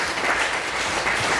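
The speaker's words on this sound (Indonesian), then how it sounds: "Kasih tepuk tangan dulu, betul." Congregation applauding during a church sermon, a steady wash of many hands clapping at moderate volume with no voice over it.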